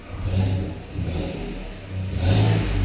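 A Chevy Silverado engine with a cylinder 6 deactivation solenoid fault runs rough, its low, uneven rumble swelling and easing in three surges with some clatter, heard close up and without talk.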